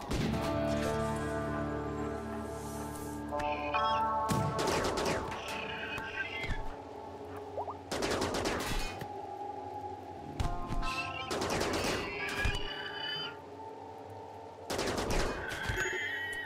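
Bursts of rapid gunfire in the video game RimWorld erupt repeatedly, loud and close, separated by stretches of steady background hum and faint tones.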